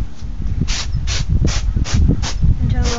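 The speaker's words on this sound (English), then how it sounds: "So I'm going to spray even" Matte finish spray hisses onto a Breyer model horse in even coats, six short regular bursts about every 0.4 seconds, close and loud over a low rumbling background.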